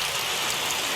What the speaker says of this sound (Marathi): ते चेक करा तुम्ही किती जोरात पाऊस चालू झालाय